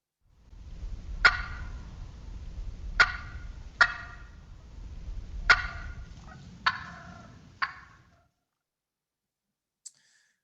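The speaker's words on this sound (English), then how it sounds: "Let's listen to a cluck." Wild turkey clucks: six sharp, separate clucks spaced about a second apart, fairly close and clear over a low background rumble, followed by near silence and one faint click at the end.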